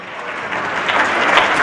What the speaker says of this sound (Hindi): भाई तालियों के लिए तो मेरे को बार बार कहना पड़ता है